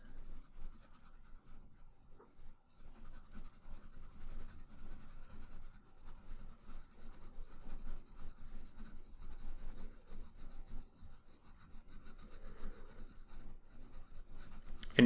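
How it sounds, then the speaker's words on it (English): A pencil lightly sketches midtone shading on paper, producing a soft, continuous scratchy rubbing with a steady back-and-forth rhythm, faint and close throughout. "So I'm going to lightly sketch in that midtone there."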